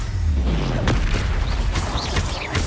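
Expelliarmus spell casts in Hogwarts Legacy amid dense combat: a steady low rumble with sharp whooshing zaps and bright magical chimes layered over constant game noise.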